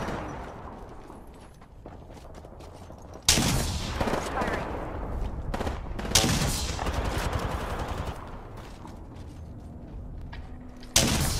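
Gunfire in the battle-royale shooter Apex Legends: loud sustained automatic bursts with sharp onsets, broken by short pauses and mixed with game effects.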